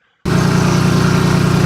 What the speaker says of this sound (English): that engine is booting up